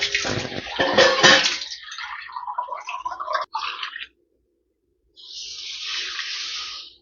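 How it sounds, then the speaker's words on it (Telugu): Water poured into ragi flour while making ragi upma, a steady splashing pour for about four seconds that stops, then a softer, even running-water sound returns near the end, with no talking. "వాటర్ యాడ్ చేసామండి"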